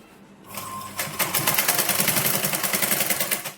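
A sewing machine stitching a blouse runs in a steady, fast mechanical whir with rapid needle clatter, close and continuous after a short quiet start.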